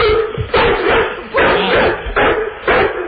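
A pit bull boxer puppy named Max barks in repeated bursts, heard thinly over a telephone line with a muffled, band-limited quality; about four separate loud bark clusters come in quick succession.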